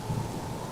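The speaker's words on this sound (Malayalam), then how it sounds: "അടുത്ത 3 ദിവസം തുടർച്ചയായി കനത്ത മഴ പെയ്തു" Heavy rain with rumbling thunder as a short story sound effect in an animated Malayalam fairy tale, a steady close wash of rainfall and low rumble with no voices.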